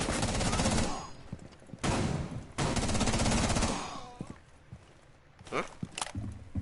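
Rapid bursts of gunfire from a rifle in the tactical shooter Rainbow Six Siege, loud, in several sustained volleys separated by short gaps, followed by scattered single shots and clatter.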